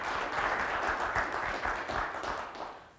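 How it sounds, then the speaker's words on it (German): An audience at a technical colloquium gives sustained, moderately loud applause that fades toward the end. "bitte einen Applaus an den Herrn Fiaker"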